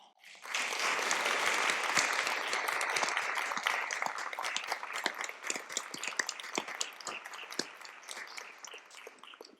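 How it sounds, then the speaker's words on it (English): An audience at a graduation ceremony breaks into warm applause, swelling quickly to a full, even roar of many clapping hands and then thinning toward sparser, distinct claps by the end. "let me ask for a warm and heartfelt applause for Cleonice"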